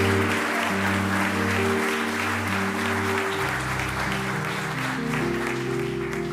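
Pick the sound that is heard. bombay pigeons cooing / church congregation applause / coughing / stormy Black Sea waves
church congregation applause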